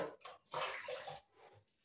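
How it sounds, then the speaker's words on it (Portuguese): Tap water splashing and running while dry beans are rinsed in a home kitchen, coming in several short bursts with brief pauses between them, fairly close and faint. "Eu só vou lavar aqui o feijão."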